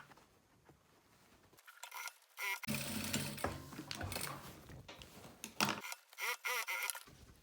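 A sewing machine stitches a fabric toiletry pouch, running in loud bursts with brief stops between them and a stuttering run of stitches near the end.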